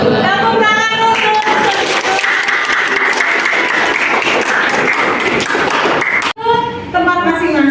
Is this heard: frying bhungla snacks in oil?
no